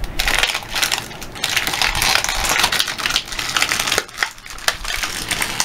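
Toy collector-set packaging being torn open and crushed by hand: dense, continuous crackling and crinkling of plastic and cardboard close up, with a brief pause around the fourth second before the rustling resumes.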